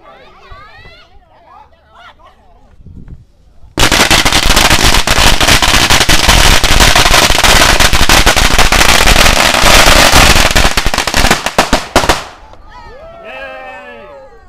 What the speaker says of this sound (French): Regardez le mec là en train de faire les pétards là-bas.